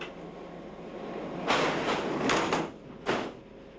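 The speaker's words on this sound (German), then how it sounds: "Die Doppelschiebetüren werden elektropneumatisch, das heißt mit Luftdruck geschlossen. Das ergibt das unverwechselbare S-Bahn-Geräusch." Electropneumatic double sliding doors of a Hamburg S-Bahn train closing under air pressure, giving sharp hissing thumps at intervals over a low steady hum, close and loud.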